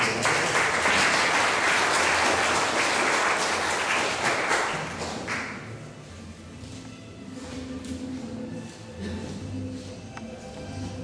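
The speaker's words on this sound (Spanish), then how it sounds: "Démosle un fuerte aplauso." A hall audience at a lecture and poetry reading bursts into dense, steady applause that holds strongly for about five seconds, then drops away quickly into quieter room sound with a few lingering claps.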